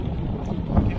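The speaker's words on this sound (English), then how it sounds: "I'm riding straight into the wind with the Osmo Action" Wind buffets the microphone while riding a Kingsong S18 electric unicycle, a short burst of low rumbling gusts and noisy rushing air.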